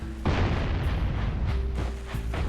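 Cannon fire from the Jak & Daxter video game: a dense, continuous low rumble of explosions and bursts, loud and up close, with no talking over it.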